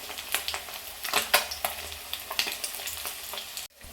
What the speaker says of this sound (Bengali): আরেক সাইডটা ভেজে মাছগুলো তুলে নেব